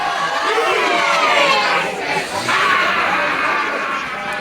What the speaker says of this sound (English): Listen up to this crowd.